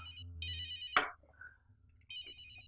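A phone ringtone chirps in short repeating electronic bursts, pausing briefly before ringing again, fairly close and clear with no voices.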